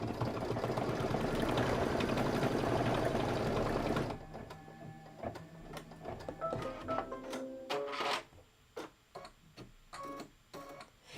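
An embroidery sewing machine stitches a tack-down line, running in a loud, steady, rapid whir for about four seconds, then stopping, after which only scattered quieter clicks and knocks remain.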